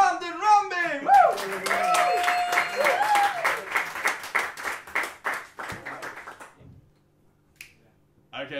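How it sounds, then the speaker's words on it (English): An open mic audience claps and cheers through the middle stretch under an MC's lively talk, then the applause thins out and stops. "a massive round of applause for the incredible Brandon Rambe"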